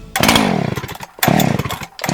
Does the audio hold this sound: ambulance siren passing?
no